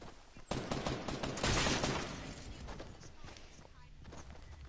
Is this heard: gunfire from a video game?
yes